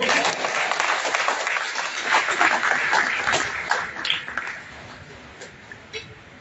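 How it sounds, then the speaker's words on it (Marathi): An audience at a live poetry event in Kolhapur claps loudly in sustained applause that tapers off toward the end, with some voices mixed in. "जरा जोरात वाजवा टाळ्या"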